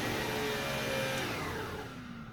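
A Lindhaus vacuum cleaner running with its brush roll engaged, a loud, steady close-up motor whine that holds evenly, then eases slightly toward the end.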